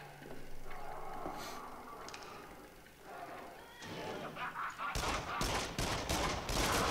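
A burst of rapid gunfire erupts in a VR horror game, several loud close shots in quick succession following a stretch of ambient rumble and a voice.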